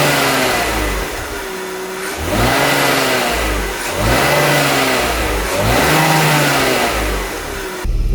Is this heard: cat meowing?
no